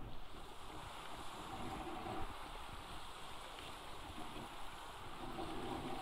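Ocean surf in the survival game Atlas, a steady wash of waves with wind rushing over it, constant and fairly soft with no talking.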